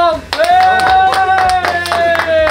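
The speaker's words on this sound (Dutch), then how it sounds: "Mag ik een groot applaus voor Armand" Audience claps in a sharp, regular rhythm at a studio prank show, the loud close hand claps mixed with a sustained tonal voice or music line running over them.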